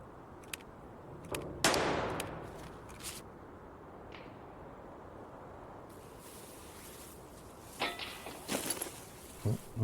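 Scattered distant gunfire in Escape from Tarkov, with a few sharp cracks early on and a cluster of muffled shots near the end over a steady buzzing ambient bed.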